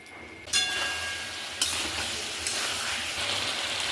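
A spice paste of ground and powdered spices fries in a pan for a prawn and taro curry, giving a steady loud sizzle with sharp scraping bursts as it is stirred, and no talking.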